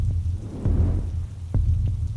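Pouring rain comes down in a steady heavy hiss over a low rumbling throb, with a few sharp soft knocks scattered through the short stretch and no voices.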